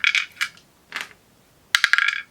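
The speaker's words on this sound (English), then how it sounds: "I need to roll the dice because it's the end of his turn" Dice rolled in the Cthulhu: Death May Die board game: a black die clatters in a few sharp bursts, followed by a quick run of rattling clicks as it tumbles and settles, close and alone.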